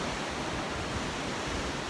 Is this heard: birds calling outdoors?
no